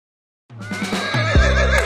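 A cartoon horse neighs loudly after a moment of silence, a long wavering whinny close up, followed by a lower snort, in an animated Vietnamese folk tale.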